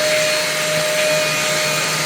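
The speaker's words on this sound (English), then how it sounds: "The Hoover's really loud." A Hoover vacuum cleaner runs through a DeWalt DXVCS002 cyclone dust collector, producing a loud, steady, close roaring whoosh with a thin high whine held throughout.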